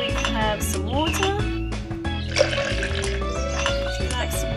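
A cartoonish water-pouring effect in a children's iPad shopping game plays briefly among light app music and chimes, with a child-friendly voice talking throughout.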